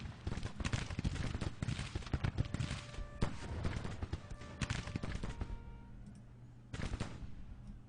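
Repeated musket volleys from Grand Tactician: The Civil War roll through the battle, dense crackling bursts overlapping in waves, fading briefly before another ragged volley erupts.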